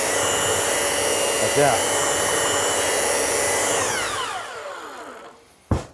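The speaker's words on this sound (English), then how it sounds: "I'm going to start to blend this in by moving the belt sander up, which I call feathering" Belt sander running steadily on wood while feathering a sanded area, a loud continuous motor whine and abrasive grind that winds down and fades near the end, followed by a brief sharp knock; a short spoken word near the finish.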